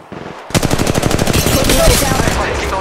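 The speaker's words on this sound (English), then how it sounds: "Shots fired and they're hitting me." Rapid automatic gunfire from a weapon in the mobile battle royale game Apex Legends Mobile, loud and close, a fast continuous burst after a short quiet start.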